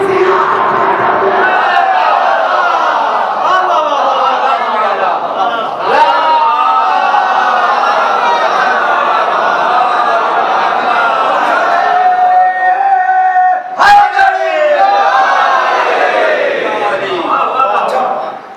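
A large gathering at a Shia majlis shouts a sustained, massed response to a religious slogan, loud and continuous with swelling voices and a brief break near the end.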